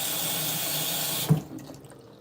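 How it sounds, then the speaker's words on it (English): Spiralized zucchini is rinsed under a running kitchen tap, a steady close hiss of water that cuts off abruptly partway through, leaving a few faint drips and knocks. "Okay, I'm definitely going to have to rinse this one off because there is a lot of starch comes out."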